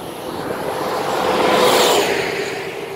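A dolmuş minibus in Güvercinlik, Bodrum drives past with a broad engine and tyre roar that swells to a peak and then eases off, close and loud, with no talk.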